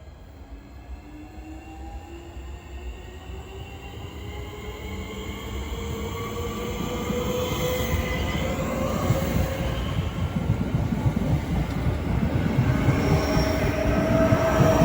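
A Southeastern train pulls into Orpington station, rumbling louder as it nears, with drawn-out wheel squeal and shifting tonal whines over the rolling wheels and no voices.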